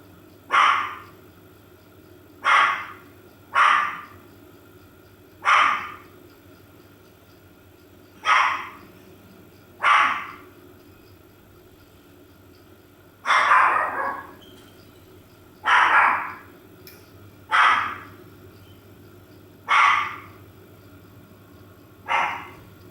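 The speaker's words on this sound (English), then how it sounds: "dogs are barking" Several household dogs bark at home in a loose, irregular series of about a dozen sharp, fairly loud barks spread over the stretch, with short gaps between them and no talking.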